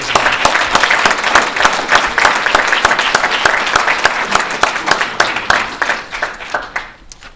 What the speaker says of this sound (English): Let's see everybody give a round of applause